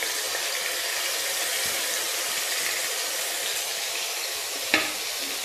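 Sama rice hitting hot ghee in a kadhai makes a soft, even sizzle that runs throughout, with one sharp clink or stir near the end and no talk.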